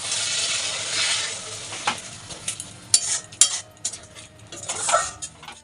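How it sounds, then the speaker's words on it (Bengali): Powdered spices being sautéed with a splash of water in a pan, a steady sizzle at first giving way to scattered scraping and clinking of a spoon stirring against the pan. "এবারে আমি এই গুঁড়ো মশলাগুলো দিয়ে দেবো সামান্য একটু জল দিয়ে দেবো মশলা কষানোর জন্য"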